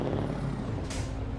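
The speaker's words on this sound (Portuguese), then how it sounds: "Eu ativei o freio de mão, não é possível." A truck's parking brake releases a sharp air-brake hiss in Euro Truck Simulator 2, a short burst over a steady low engine idle rumble, close and loud.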